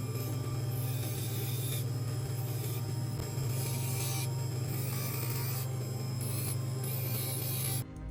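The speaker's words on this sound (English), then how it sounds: "Next, I attach a grinding wheel to my polishing machine and begin grinding away the excess metal on the sides and" A grinding wheel mounted on a polishing machine works the sides and edges of silver cable rings, giving a steady motor hum under a continuous rasping grind that pulses in and out at close range.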